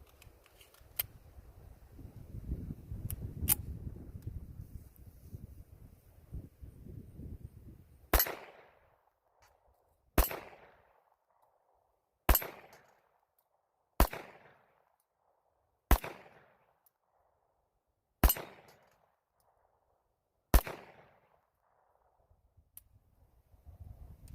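A CMP M1911 pistol fires seven sharp, loud shots at a steady pace of about two seconds apart, each cracking out alone and decaying quickly, preceded by a stretch of low rumbling handling noise.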